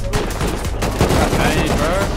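Grenades from a launcher pound a breach in Rust, a rapid run of loud, close blasts stacked over one another, with a voice faintly underneath.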